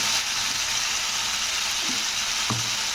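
Drumstick stems and potatoes frying in spice paste, a steady close hiss of sizzling oil with a few faint scraping stirs, no voices.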